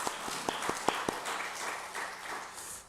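An audience claps at a book launch celebration held in a church community setting. Several sharp individual claps open, then merge into a steady wash of applause, moderately distant and soft in a large room.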